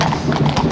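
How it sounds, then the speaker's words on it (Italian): Horses clip-clopping on pavement in a historical group's mounted parade at the Ivrea Carnival, several close hoof strikes in quick irregular succession over a noisy crowd background. "Sfilate a cavallo."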